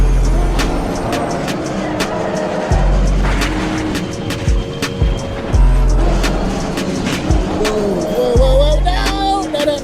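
A racing car in a sim racing game at Silverstone, engine droning loudly with a stuck throttle, its tone rising and falling in repeated surges and some whining shifts, up close throughout.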